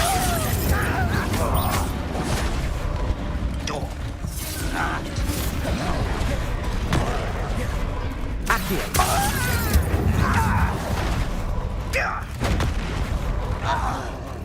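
Repeated Confringo blasting-spell explosions in Hogwarts Legacy, sharp cracking bursts and shattering debris scattered through a dense, continuous clatter of combat, with a voice speaking over the action.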